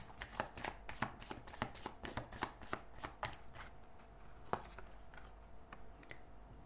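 Tarot cards are shuffled and drawn by hand, making a rapid, quiet run of crisp flicks and taps that slows and thins toward the end, close to the listener with no voice over it.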